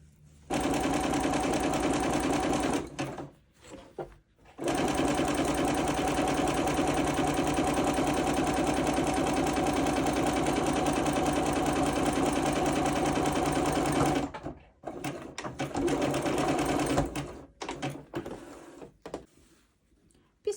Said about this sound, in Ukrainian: зигзаг на швейній машинці. То обробляємо оці три края шовом зигзаг